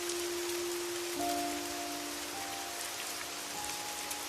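Heavy rain pours down in a dense, steady hiss, with a faint low hum running underneath.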